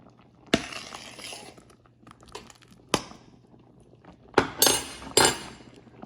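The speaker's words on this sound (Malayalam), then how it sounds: "1-2 ഇങ്ങനെ മാഷ് ചെയ്ത് അതിൻ്റെ അകത്തോട്ട് ചേർത്തുക" Cooked bilimbi being mashed in a pot, with a few sharp clinks and knocks of a utensil against the pot spaced across a quiet background.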